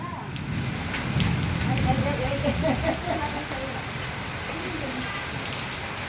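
Steady heavy rain pours down in a constant hiss and patter, with a voice murmuring faintly underneath for a few seconds.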